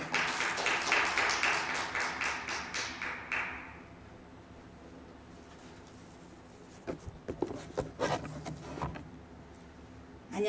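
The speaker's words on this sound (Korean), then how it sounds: "박수 부탁드리겠습니다" Audience clapping at an advisory council training session, moderately loud for a few seconds then stopping abruptly, followed by near silence and scattered thumps and handling noises.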